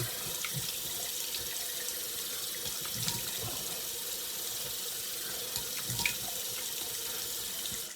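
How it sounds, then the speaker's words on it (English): Cold water runs steadily from a tap into a sink for a shaving rinse, a continuous hiss and splash with occasional small clinks, fairly quiet. "Nice cold water rinse."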